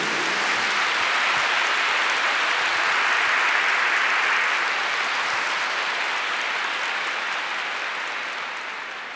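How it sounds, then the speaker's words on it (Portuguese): A large audience at a religious healing talk gives loud, dense, sustained applause, a continuous wash of clapping that holds steady for several seconds before slowly tapering off. "Give the Lord a big clap for that."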